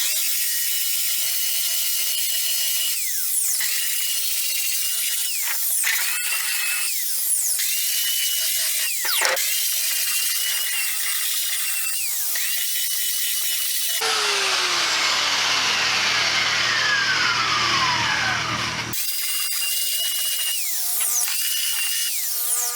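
Continuous abrasive scraping and grinding of a sanding tool on a boat keel, loud and close, with shifting pitch as the tool moves across the surface.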